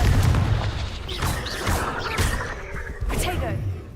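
Confringo blasting spells in Hogwarts Legacy land in a series of sharp, booming impacts with whooshing tails, spaced a second or so apart and fairly loud against busy game noise.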